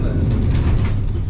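Lisbon's Tram 28 pulling into the hilltop Graça stop, a close, continuous rumble of steel wheels and car body with a hissing, grinding edge throughout.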